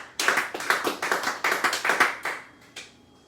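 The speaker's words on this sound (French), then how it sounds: "Est-ce que nous pouvons acclamer pour cette parole?" A church congregation applauds after a scripture reading, with a short run of rhythmic, fairly close handclaps that fades out after about two seconds.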